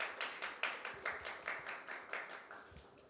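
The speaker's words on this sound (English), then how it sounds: "Just maybe a round of applause for everyone." A small audience applauds after introductions at a faith-based youth leadership panel, heard as a short, faint round of separate, fairly regular claps with no talking.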